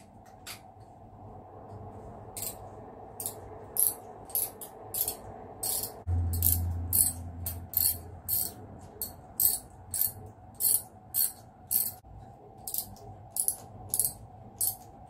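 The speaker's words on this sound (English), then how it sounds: "So first of all, we'll take out our spark plugs." A ratchet wrench clicks in steady, repeated bursts while spark plugs are loosened and removed from a Humber Super Snipe Mk IV engine with a compression problem, close up, over a low background hum.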